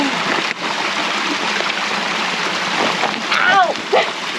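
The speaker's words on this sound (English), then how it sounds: "Let's see how Amy makes it across the babbling brook" A babbling brook in a Jordanian desert rushes steadily as someone crosses it, with a constant close wash of flowing water and a few splashes, while a voice briefly speaks near the end.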